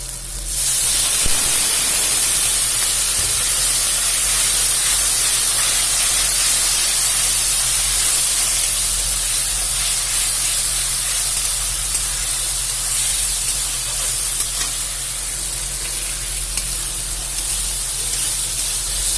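Water poured over fish frying in a pan gives a loud, continuous steamy hiss that holds steady and close, with no talking.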